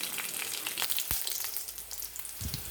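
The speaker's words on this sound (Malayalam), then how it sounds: "മാങ്ങാക്കറിക്ക് കടുക് വറുത്തെടുക്കാൻ പോവാണ്" Mustard seeds frying in hot oil for a ripe mango curry, a steady sizzle with scattered sharp pops and crackles, one loud burst near the middle, no talking.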